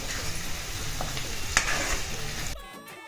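Chili chicken wings being stirred in a hot frying pan, a steady close sizzle with soft scraping that cuts off abruptly near the end.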